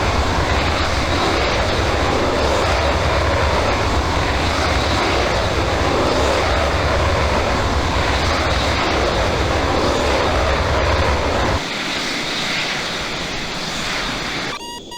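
Military jet engine roaring at full power during takeoff in the Falcon 4 flight simulator game, a loud steady broadband rush that drops abruptly in level near the end of the run.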